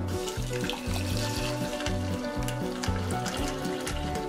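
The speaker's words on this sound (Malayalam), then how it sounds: "ഇനി നമ്മുടെ വെള്ളം ഇതിലേക്ക് ഒഴിച്ചു കൊടുക്കാം" Water poured into a saucepan for a homemade hair tonic, a continuous splashing trickle close by, with rhythmic pulsing as the stream hits the pan, no talking over it.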